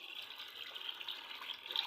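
Water runs steadily in a quiet, faint trickle while being poured into raita made with yogurt, cumin and salt.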